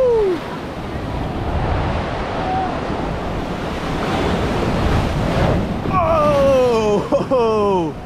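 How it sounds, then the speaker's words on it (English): Ocean waves surge and crash at Laguna Beach in a loud, continuous wash close by, with wind buffeting the microphone and excited voices over the surf near the end. "These waves are nuts."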